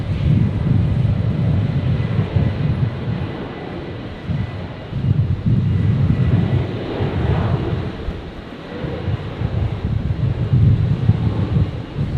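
A Virgin Australia Boeing 737 rolling for takeoff on runway 19 left at Brisbane Airport, bound for Melbourne: a steady, loud low-pitched jet roar with wind buffeting the microphone, swelling and dipping slightly over twelve seconds.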